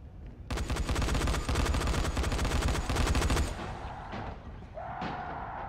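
Gunfire in Dying Light: a loud, dense stream of rapid automatic shots lasts about three seconds, then cuts off into quieter rumbling game noise and a rising tonal sound.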